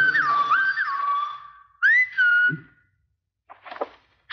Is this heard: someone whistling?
yes